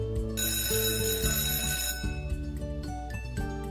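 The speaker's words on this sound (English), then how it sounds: "a school bell's ring" A bell rings continuously for a couple of seconds, then again in shorter bursts, ringing over light background music.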